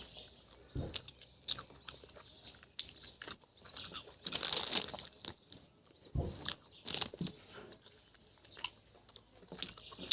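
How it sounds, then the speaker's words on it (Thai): Chewing and biting into jambolan (Java plum) fruit close to the mic, with irregular wet crunches and a louder burst midway, alongside faint outdoor bird calls. "ยิ่งกินยิ่งอร่อย ยิ่งติดใจนะครับ"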